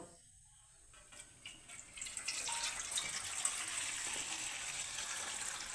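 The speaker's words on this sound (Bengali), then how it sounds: "পাত্রটাতে আমি দিয়ে দেবো সামান্য জল" Water pours into a large container in a steady, soft gushing stream that starts faint and grows fuller after a couple of seconds, then keeps running alone.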